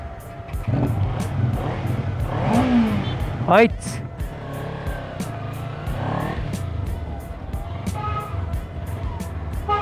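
A Kawasaki Ninja 300 motorcycle fitted with a K&N air filter runs nearby, its engine rising and falling in pitch through revs with one sharp rev burst, while someone talks over it.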